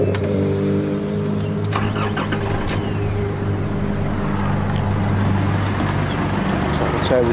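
A car engine cranks and catches, then settles into a steady idle hum with faint mechanical whine on a chilly day, the car overdue for service and checked for belt squeals; close and continuous, with a voice speaking briefly over it.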